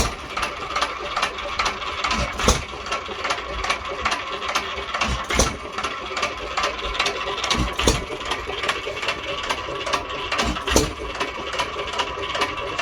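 Hercules 1 1/2 hp hit and miss engine, as found and running for the first time in many years: a steady mechanical chatter with sharp firing bangs every few seconds, close and continuous.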